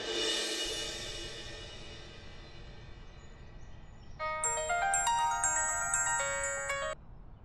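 A phone plays a melodic ringtone during an outgoing call, a bright repeating tune entering partway through over faint background hiss, moderately loud and close.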